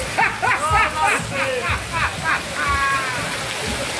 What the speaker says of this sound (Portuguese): Elevando o Brasil, muita chuva aqui, animando toda a nossa serrinha.